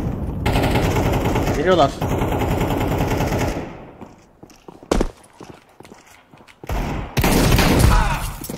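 Counter-Strike 2 match with loud, sustained automatic gunfire that breaks off, returns in a short burst, then resumes heavily, while players talk over the shooting.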